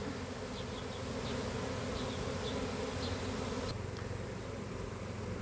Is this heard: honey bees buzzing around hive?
yes